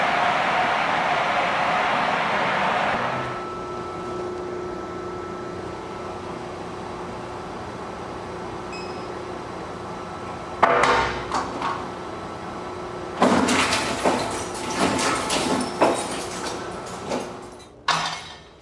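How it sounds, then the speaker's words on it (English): An industrial shredder destroys hard drives at a Google data center: a steady machine hum first, then loud, ragged bursts of crunching and grinding as the drives are fed in and torn apart. "Let's go shred some hard drives."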